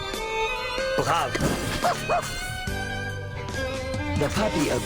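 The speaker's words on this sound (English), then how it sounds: "The puppy agreed with your decision." A puppy yips and barks in the video game Reverse: 1999, several short bright barks sounding over the game's music and effects.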